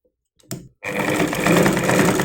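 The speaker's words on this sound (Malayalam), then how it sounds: "ഇനി നമുക്കിത് സ്റ്റിച്ച് ചെയ്യാം." Sewing machine stitching a saree blouse, with a brief whir and a short pause before the machine runs again in a steady, loud, continuous hum up close.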